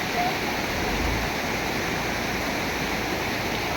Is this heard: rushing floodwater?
yes